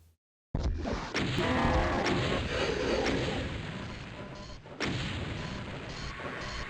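Rocket blasts in DOOM's Plutonia Experiment, MAP27 Anti-Christ, come as a loud, dense run of booming impacts after a brief silence, with sharper bursts punctuating the continuous roar of gunfire and explosions.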